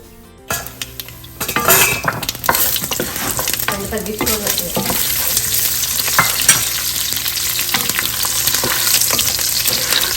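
Urad and chana dal fry in hot oil for tempering, a sharp sizzle building after a quiet start, with spoon scrapes and metallic pan clinks throughout.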